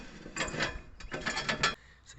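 A steel beam for a caravan BBQ platform slides out from under a Jayco StarCraft chassis, producing quiet close scraping and rattling metal clunks in two short bursts.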